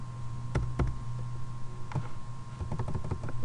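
Close-up tapping on a computer keyboard as JSP code is entered: a couple of isolated clicks, a pause, then a quicker cluster of keystrokes over a faint steady electrical hum, no voices.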